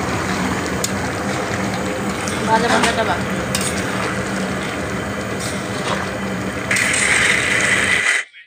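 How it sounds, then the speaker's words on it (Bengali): Ground spices stir in hot ghee in a frying pan for a soybean and potato curry, a loud close sizzle with scraping stirs throughout that grows briefly brighter near the end before cutting off. "গুঁড়ো মশলাটাকে একটু ভালোভাবে নাড়াচাড়া করে মিশিয়ে নিতে হবে"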